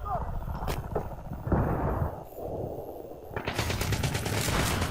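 Battlefield 3 multiplayer gunfire, rapid automatic bursts and shots rattling close and loud, broken by a short lull, with a player talking in Thai over the action.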